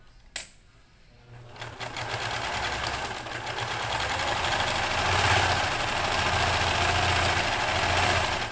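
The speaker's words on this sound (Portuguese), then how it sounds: "nós vamos passar uma costura aqui, ó, fechando a orelhinha dos dois lados" A sewing machine stitches closed the ear of a fabric toy mouse. After a click, it builds into a steady, close, whirring mechanical hum that runs continuously, with a slight rise midway.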